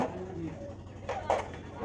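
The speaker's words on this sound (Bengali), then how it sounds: "পাশের কাছেও কিন্তু কম পায়রা নেই, প্রচুর পায়রা আছে" Pigeons at the Galiff Street pigeon market in Kolkata, giving a soft, low cooing that is faint and brief over a busy market background.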